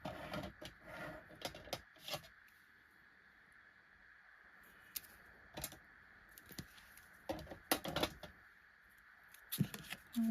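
Decorative scissors snip along paper edges to scallop them for a junk journal, a series of small crisp cuts and clicks coming close and quiet in uneven bursts with short pauses between.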